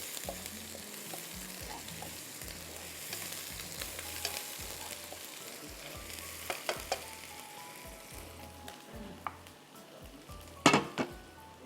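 Two blended tomatoes going into a frying pan with garlic paste, a soft steady sizzle with faint utensil clinks and a louder metallic scrape near the end.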